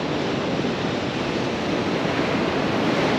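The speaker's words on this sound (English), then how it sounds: "Surf's cranking, by the way." Ocean surf breaks on a beach along a remote wilderness coast, a dense, continuous roar of waves that stays loud and steady throughout with no talking.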